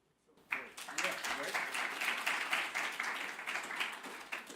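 A meeting audience at an open science session breaks into applause after a short quiet start, a full run of clapping that stays strong and fairly even to the end.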